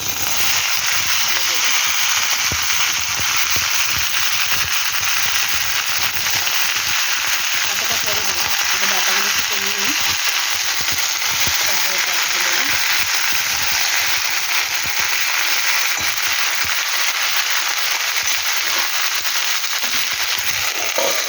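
Vegetables sizzle and fry in a pan for a Bengali borar torkari, a steady loud crackling hiss that runs unbroken throughout, with occasional faint clatter beneath it.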